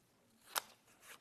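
A single crisp snip of scissors cutting a strip of paper for a craft project, one sharp close cut followed by a fainter second snip, with no talking.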